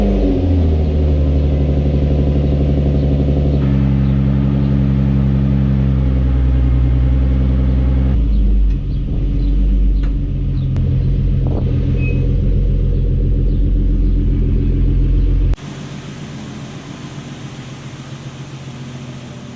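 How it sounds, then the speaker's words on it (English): Nissan 350Z Nismo engine cranking and catching, then settling into a deep, steady idle with shifts in tone as revs drop, ending in a quieter low rumble. "So I'll give you a cold start real quick."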